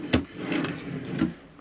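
Cabin drawers on a cruise ship are slid open and shut, giving a few close wooden knocks and short rumbling slides over about a second and a half.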